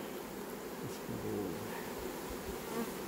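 Honey bee swarm buzzing inside a hive box, a dense, continuous hum close by with faint rustling and no voices.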